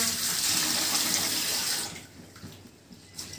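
Tap water runs steadily into a sink as rice is washed in a home kitchen, a loud rushing stream that cuts off partway through, leaving quieter splashes and handling noises.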